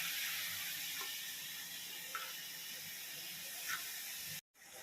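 Onions, green chillies, curry leaves and fennel seeds sizzle in hot oil in a pan for shark puttu, with a steady, faint hiss and a few soft crackles throughout, broken by a short silence near the end.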